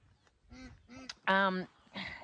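Ducks quack and honk in a garden, a series of close, harsh calls of several lengths, with one long loud call in the middle and no speech.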